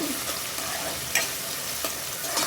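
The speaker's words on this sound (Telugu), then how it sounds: "పచ్చిమిర్చి కూడా వేసుకున్నాక ఇలా తిప్పుకుంటూ ఫ్రై చేసుకోవాలి" Green chillies and onions fry in a pan with a steady, loud sizzle as they are stirred, and light scraping of the utensil against the pan cuts through now and then.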